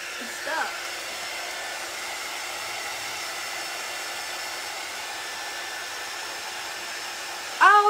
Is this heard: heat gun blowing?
yes